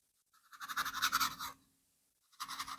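A paintbrush scrubs and taps acrylic paint on canvas, two bursts of quick bristly scratching strokes separated by a short pause, close and quiet, with no voices.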